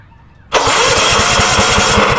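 A Generac 4000 W portable generator engine fires up abruptly after a brief quiet moment, then settles into a loud, steady, buzzing run with a rhythmic low pulse from the engine.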